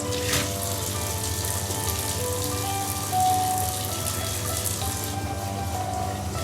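Hot tap water runs steadily into a sink while beef roasts are prepared for biltong, a continuous close splashing hiss with quiet piano music underneath.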